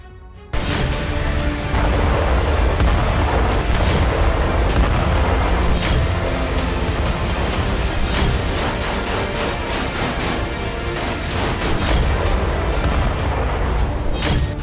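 Explosions and artillery fire in the Bakhmut war zone: repeated heavy booms and sharp blasts crack over a constant loud rumble of fighting, with several distinct impacts throughout.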